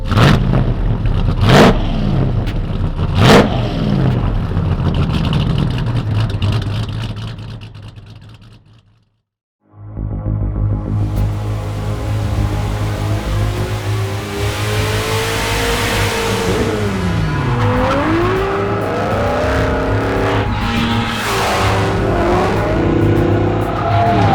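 A RAM TRX pickup with a swapped Hellephant engine, loud and close: a few sharp revs, a brief fade to near silence, then a sustained engine roar with rising and falling revs and tire squeal.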